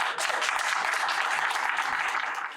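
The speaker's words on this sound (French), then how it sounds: "donc je veux que vous l'applaudissiez très très fort." An audience applauds loudly and steadily for a first-time public speaker at a talk on optimism, a dense wash of hand claps sustained throughout with a brief dip near the start.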